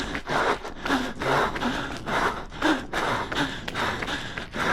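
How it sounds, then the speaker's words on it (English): A runner's heavy, rhythmic breathing with sharp gasping inhales and rough exhales, close up and repeated steadily throughout, during an all-out 5 km effort. "You can now hear it, and I am starting to death cough now"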